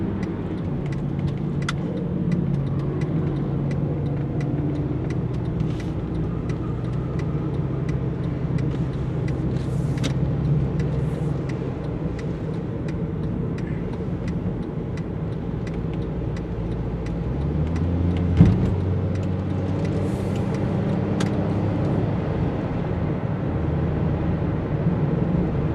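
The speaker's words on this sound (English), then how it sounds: "I see buses," Road traffic with buses and backed-up cars, heard from inside a vehicle as a continuous low rumble of engines, with occasional higher whooshes and a brief thump near the end.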